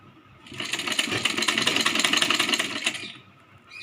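A sewing machine runs in one steady buzzing burst of about two and a half seconds as it stitches a Rajputi kanchali blouse, close and fairly loud, with a fast even rattle that starts and stops abruptly.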